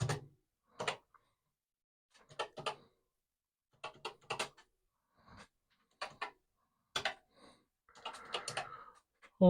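Keys clatter on a Commodore PET computer keyboard during repair testing, coming in short separated bursts of clicks with pauses between them, close and fairly quiet, with no talking.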